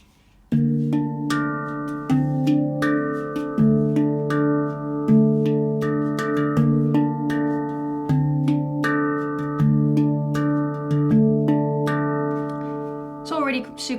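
Handpan played as a steady groove, low bass notes moving beneath bright ringing melodic strikes in an even rhythm, close and clear with no talking.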